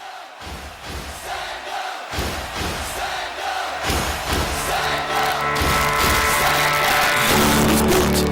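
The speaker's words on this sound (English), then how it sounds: "a round of applause for Works Engineering, please" A crowd at a socio-economic summit in Ibadan cheers and claps for Works Engineering. Loud mixed shouting and applause build steadily, and music swells underneath as the noise grows.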